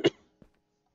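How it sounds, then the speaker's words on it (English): A single sharp cough up close, followed by a faint short throat sound, then quiet. "Can't stop coughing today."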